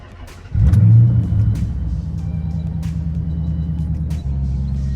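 A 2013 Dodge Charger R/T pulls away with a sudden deep engine rumble that swells loudly, then settles into a steady, lower drone as it drives off.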